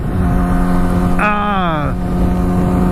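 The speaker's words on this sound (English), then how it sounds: "this pipe is really sick, dude. I mean, God, I like the way this thing sounds" Motorcycle with an aftermarket exhaust pipe and a Power Commander 5 fitted, idling steadily up close, then revving briefly in a single rising and falling blip before settling back to a loud, rumbling idle.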